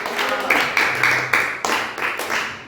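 A church congregation claps in praise of Jesus, a dense roomful of hands beating in a steady rhythmic pulse, loud and close throughout the short burst.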